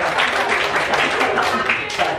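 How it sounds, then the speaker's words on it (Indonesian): A class of students applauding together in a classroom, a dense, steady wash of clapping at close range that fills the short stretch without pause. "Tepuk tangan dulu"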